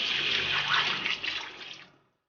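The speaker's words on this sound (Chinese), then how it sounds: "锅中加入适量清水，" Water pours in a steady, close, splashing stream into a wok of fried spices for a red-broth lamb offal hotpot, then tapers off and stops into silence.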